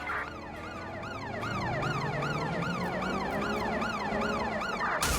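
Ambulance siren in Watch Dogs: Legion, a loud wailing tone sweeping up and down in rapid repeated cycles over engine noise from a pursuit, alone without talk.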